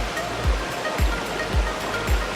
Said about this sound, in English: so you can enjoy actually the big waterfall